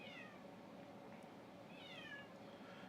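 A cat gives two faint, drawn-out meows about two seconds apart, heard quietly against steady background noise with no talking.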